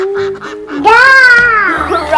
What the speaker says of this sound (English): Duck. Right, it's a duck.